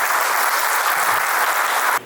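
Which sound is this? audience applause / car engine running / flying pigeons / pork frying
audience applause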